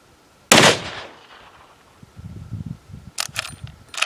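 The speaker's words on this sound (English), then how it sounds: "maybe I shot a little too high" A single loud hunting rifle gunshot cracks sharply and close, its report decaying over about a second, followed by rustling and handling noises as the shooter shifts position in the field.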